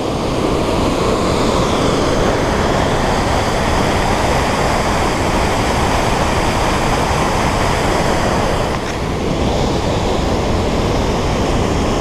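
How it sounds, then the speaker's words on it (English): Godafoss waterfall in Iceland roars steadily, a dense, loud rush of falling water that fills the whole scene without pause. "out of all the waterfalls we've seen so far, this one is the prettiest."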